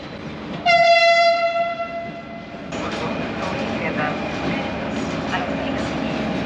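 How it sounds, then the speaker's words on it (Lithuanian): A long freight train arrives, sounding a loud sustained horn blast for about two seconds, then rolling past with a steady heavy rumble and faint clatter of wagons. "Atvažiuoja traukinys. Gan ilgas."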